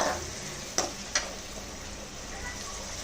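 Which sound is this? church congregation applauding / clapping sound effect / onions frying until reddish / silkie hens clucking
onions frying until reddish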